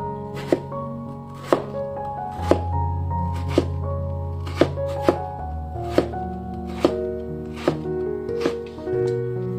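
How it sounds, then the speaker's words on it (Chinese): A knife cutting winter melon into strips on a cutting board, about a dozen crisp chops landing at a steady unhurried pace, close and clear over a quiet musical backdrop. "下面再切成长条，冬瓜这样切"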